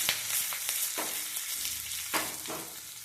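Dried chillies and curry leaves crackle and sizzle in hot oil, a steady close frying hiss broken by sharp pops and a few stirring scrapes.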